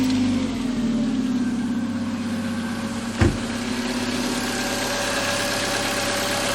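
A Ford Focus MK1 engine idles steadily nearby, with a continuous low hum and a faint knocking texture, broken by one brief sharp knock midway through.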